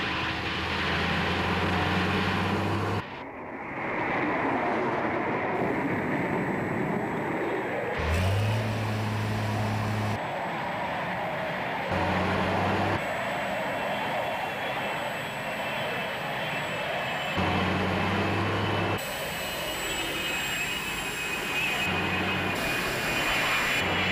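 Fireflash airliner jet engines on landing approach in the Thunderbirds setting: a loud, steady, broad roar fills the whole stretch, shifting in tone as the sound cuts between sections, with no voices over it.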